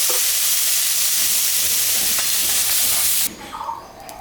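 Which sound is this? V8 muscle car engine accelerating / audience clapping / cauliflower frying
cauliflower frying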